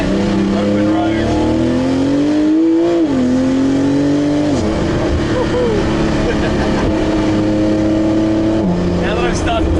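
A car pulling on an open road, its engine note climbing steadily, then dropping with a downshift and rising again under acceleration, loud and close from inside, with someone talking over it.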